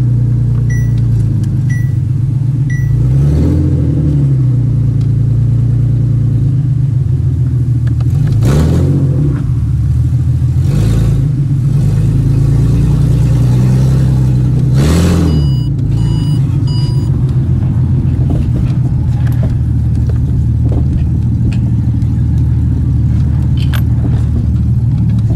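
Engine of a Ford BA Falcon under way, a steady loud low rumble with road noise throughout and several brief revving swells as it accelerates, no talking.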